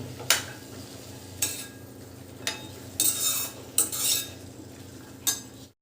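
Mixed vegetables for a Bhogi bhaji frying in oil in a pan, stirred with a metal spoon that scrapes and clinks in a handful of sharp strokes over a soft steady sizzle, with no talking.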